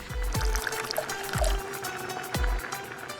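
Soy sauce and water pour into a pot of adobo with bay leaves and pepper, in three separate splashing pours with gurgling liquid between them, close and fairly loud.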